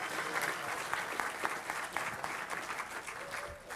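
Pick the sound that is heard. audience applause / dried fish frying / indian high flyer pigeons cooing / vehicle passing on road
audience applause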